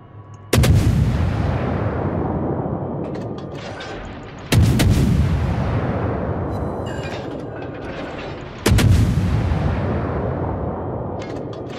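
Three heavy naval artillery salvos in World of Warships, spaced about four seconds apart, each a loud sharp blast followed by a long rumbling decay.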